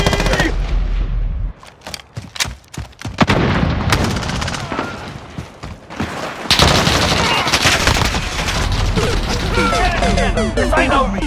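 Gunfire in the video game Modern Warfare, loud bursts of automatic fire and explosive crashes in rapid succession with brief gaps, with a voice shouting over parts of it.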